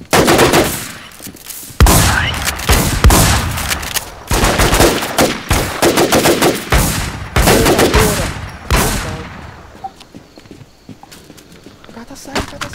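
Sniper rifle gunfire in the video game Infestation: Survivor Stories: sharp, loud shots ring out repeatedly amid busy game noise, with someone talking over much of it.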